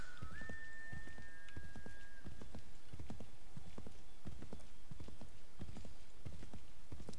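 Horse hooves clip-clop at a steady walking pace in Assassin's Creed 3, an even rhythm of moderate hoof strikes with a brief whinny-like tone near the start, all at fairly low volume.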